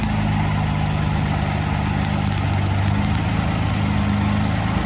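A 1953 Dodge pickup engine idles steadily and close by, with a deep, even drone and hum that never changes through the whole stretch. Its cranking is not heard.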